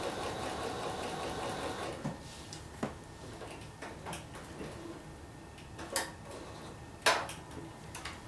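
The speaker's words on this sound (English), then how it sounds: "So I'm just going to stitch all the way down this seam" A sewing machine stitches a quarter-inch quilting seam, a steady close whirring for about two seconds, followed by quieter ticks and several sharper clicks and knocks, with no talking.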